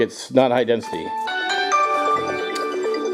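A mobile phone plays a melodic, multi-tone ringtone that begins partway through and rings steadily to the end, loud and close, with someone talking over the start.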